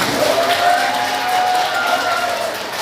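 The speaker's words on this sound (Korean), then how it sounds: "박수 한번 보내주세요." Audience applause at a professional instructor-training session, a broad wash of clapping with some crowd murmur, steady and fairly loud throughout.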